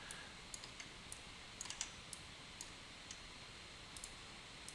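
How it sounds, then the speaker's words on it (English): Computer mouse clicks while dragging in Unreal Engine 5, a sparse, irregular series of faint, crisp ticks over a steady low background hiss, with no talking. "So I'm holding on Alt and then clicking and dragging."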